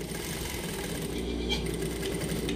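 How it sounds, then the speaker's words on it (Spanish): A sewing machine stitches a seam with a steady, rapid, continuous mechanical whirr, close and even throughout. "Vamos a coser una costura de 1/8, que es una costura de carga"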